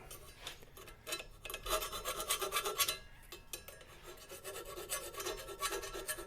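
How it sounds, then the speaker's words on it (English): Metal file rasping back and forth to deburr a freshly cut metal edge on a John Deere 1025R tractor camera mount, steady rhythmic strokes, close but faint. "take a file. This way you can deburr your metals"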